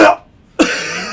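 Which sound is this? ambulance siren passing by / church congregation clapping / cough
cough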